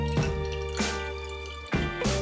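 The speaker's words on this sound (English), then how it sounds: "next we're gonna fill this up with water" Room-temperature water poured into a lava lamp bottle, heard as a run of close, bright gurgling glugs in separate bursts, with the pitch rising as the bottle fills.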